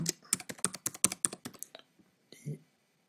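Quick run of keystrokes on a computer keyboard, about a dozen close crisp clicks in an uneven rhythm over roughly a second and a half, then a brief pause and one softer muffled knock in a quiet room.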